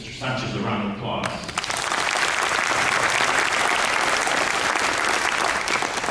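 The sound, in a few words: audience applause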